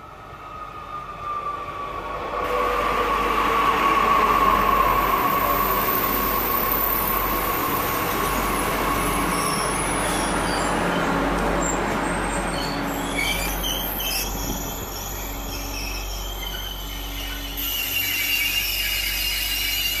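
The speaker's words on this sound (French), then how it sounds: "852034 en provenance de Caen et à destination de Rouen-Rive-Droite, départ 18h33, va entrer en gare voie D" A regional express train pulls into Lisieux station, a steady loud rumble of rolling stock with high wheel squeals rising over it, close by on the platform and continuing throughout with no talk.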